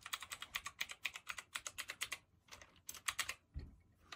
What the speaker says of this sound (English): I'm gonna try out the numpad now.